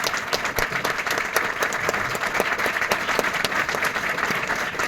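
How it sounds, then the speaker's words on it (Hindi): A crowd in a training program hall at Urdu Ghar claps loudly and continuously, a dense, busy patter of many hands with sharp individual claps standing out and holding steady the whole time. "एक बार जोरदार तालियां हो जाए आप सभी के लिए, जोरदार तालियां हो जाए।"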